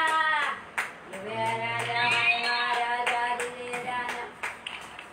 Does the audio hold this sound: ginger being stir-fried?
no